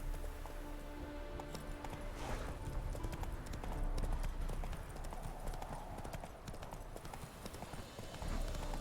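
Horse hooves clip-clop steadily at a trotting rhythm in a fantasy role-playing video game, a continuous run of hoofbeats over ambient game music and background sound.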